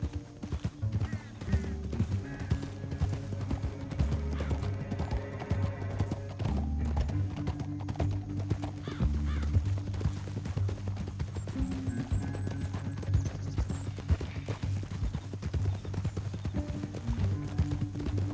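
Steady clip-clop of horse hooves at a brisk trot in the video game Red Dead Redemption 2, continuous and close, with a low musical score droning underneath.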